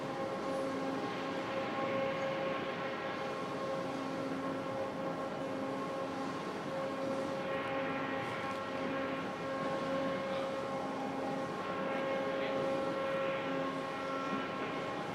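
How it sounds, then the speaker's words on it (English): A rail-mounted floor machine cuts stone inside an underground stone mine, giving a continuous loud droning hum with steady tonal whine and grinding texture, unchanging and close, with no talking. "it's basically on a set of rails, and what it's doing is cutting out the stones below our feet"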